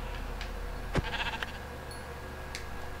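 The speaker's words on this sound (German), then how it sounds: "Da ist noch ein Schaf." A sheep in the game Minecraft gives a single clear bleat, rising briefly over a steady hum of background noise, with a couple of faint clicks around it.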